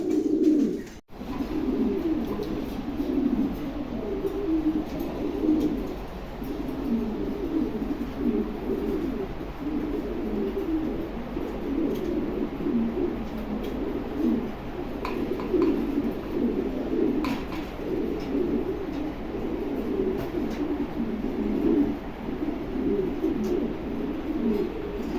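Steady, continuous cooing from king pigeons fills the whole stretch, a dense chorus of low, rolling coos at close range with no talking.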